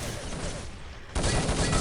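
Continuous dense gunfire in an Urban Zone multiplayer match, a steady crackling barrage that swells louder partway through, with no talking.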